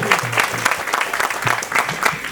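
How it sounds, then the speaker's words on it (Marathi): Devotees clap together at a Pavnai Devi temple consecration ceremony, a dense steady round of applause lasting throughout, with some voices mixed in. "त्यासाठी जोरदार टाळ्या झाल्या पाहिजे."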